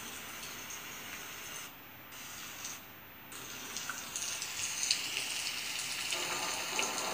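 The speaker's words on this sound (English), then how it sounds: "we've got some rain." Recorded rain falls steadily and quietly, a soft hissing patter with scattered individual drops, briefly dipping before growing slightly denser.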